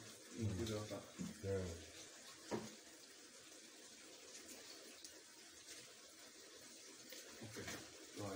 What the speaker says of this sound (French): On peut aussi rajouter de l'eau.